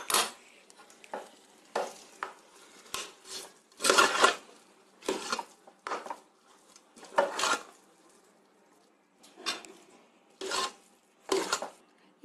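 Brown rice pongal is poured and stirred in a pot, with a series of short scraping, clattering bursts of spoon against metal separated by quiet pauses, close and fairly crisp.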